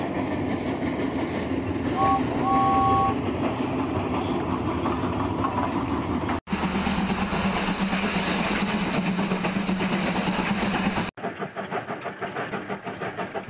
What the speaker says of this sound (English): Thomas chugged past Knapford's freight yard